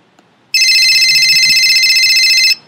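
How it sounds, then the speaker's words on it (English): A telephone rings in one continuous electronic trill lasting about two seconds, loud and close, after a brief quiet moment with no talking. "It's the phone."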